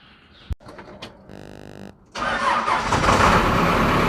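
A backhoe engine in cold weather cranks with a short whine, then catches and roars into a loud, steady idle that continues to the end, preceded by a few clicks and a brief tonal buzz.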